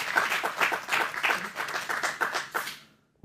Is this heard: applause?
yes